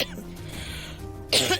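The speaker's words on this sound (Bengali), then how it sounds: "না না, আসলে কাশি হচ্ছে" A woman on the set of a Bengali TV serial coughs sharply twice in quick succession, loud and close, with speech beneath.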